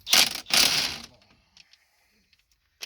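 A ratchet and socket work loose a front strut bolt on a Town & Country or Dodge Caravan, two loud close bursts of rapid clicking followed by faint metallic taps.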